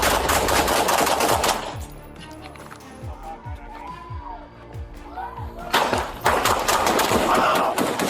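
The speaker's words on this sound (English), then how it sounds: "Shots were fired, Diaz was hit, but still managed to shoot ba" Several sharp gunshots ring out in police body-camera footage during a confrontation between deputies and an armed suspect, spaced irregularly across a quieter stretch between loud bursts of shouting and radio chatter at the start and end.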